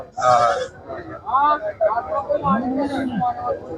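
Goats bleat over and over at the busy Chattiparamba goat market, several calls rising above the close chatter of people talking nearby.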